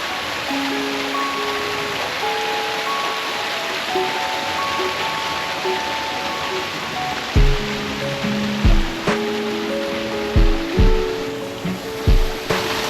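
A small waterfall and flowing creek in the Blue Mountains of New South Wales give a steady broadband rush of water, with several sharp knocks and thumps close by toward the end.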